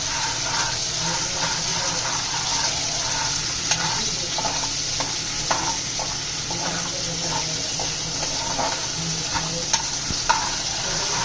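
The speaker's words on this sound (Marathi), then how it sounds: "तेल गरम झालंय, अद्रक लसूण पेस्ट टाकायची आहे।" Ginger-garlic paste sizzles and crackles steadily in hot oil in a home kitchen pan while a mutton dish is cooked, with occasional stirring clinks and sharper pops over a continuous frying hiss, close and fairly loud, no talking.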